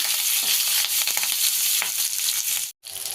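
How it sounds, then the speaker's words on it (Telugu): Chopped onions and curry leaves fry in a pan for a broad bean fry dish, giving a continuous bright sizzle with faint stirring scrapes, close and steady, with no talk. "చూడండి ఈ కలర్ వచ్చిందాక మనకి ఫ్రై చేసుకోవాలి"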